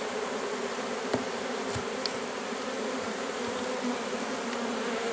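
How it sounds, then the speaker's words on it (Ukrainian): A dense, steady drone of many honeybees buzzing around a clay log hive freshly settled with a swarm, close and continuous, with occasional individual bees passing by. "Бджоли починають свій перший обліт вже на новому місці."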